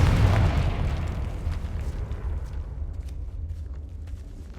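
Confringo fire spell blasting a barricaded archway in the Hogwarts Legacy video game: one heavy, booming explosion at the start that rolls off into a long, fading rumble and crackle.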